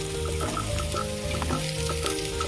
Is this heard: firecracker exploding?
no